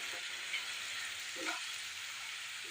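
Potatoes fry in oil, heard as a faint steady hiss of sizzling at a distance, with a soft stir or two.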